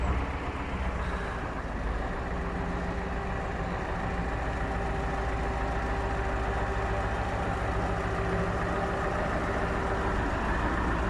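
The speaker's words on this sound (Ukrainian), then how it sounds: "Приїхав клієнт на Камазі собі по діловому" A KAMAZ truck's heavy diesel engine rumbles steadily and loudly close by, a constant low drone with no break for the whole stretch and no voices.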